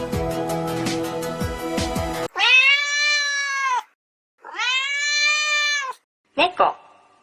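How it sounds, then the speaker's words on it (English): A domestic cat gives two long, drawn-out meows in quick succession, loud and close, following a stretch of voices talking over background music, with a brief sharp sound at the end. "Cat. Meow, meow."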